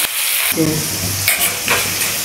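Turmeric seasoning sizzles loudly in a hot pan while being stirred, with scraping and bursts of crackling frying.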